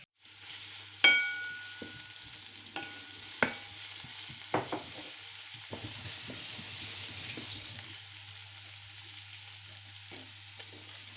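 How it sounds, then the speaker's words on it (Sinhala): Onions sizzle steadily in a pan, with sharp clinks and scrapes from stirring near the start and a continuous frying hiss throughout; no one talks. "දැන් ලුණු ටික බැදීගෙන ඉන්නේ."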